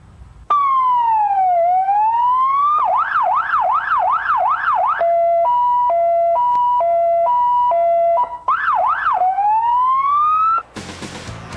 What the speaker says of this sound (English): On the very bottom, you have the siren, the police siren.